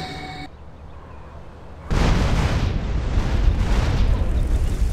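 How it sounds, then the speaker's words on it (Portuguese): After a quiet moment with a faint tone, a loud, sustained explosion from an explosive jutsu seal in a GTA San Andreas mod erupts and rumbles on, a heavy roaring blast filling the rest of the clip. "Para ativar a explosão do selo, você aperta a tecla número 1."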